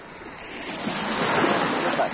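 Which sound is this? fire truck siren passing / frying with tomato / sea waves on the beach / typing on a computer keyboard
sea waves on the beach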